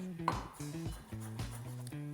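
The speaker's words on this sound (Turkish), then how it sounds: "Zencefilimizi de çok küçük minik minik doğruyoruz." Knife finely chopping ginger on a board in quick, uneven taps, close up, with a faint voice murmuring underneath.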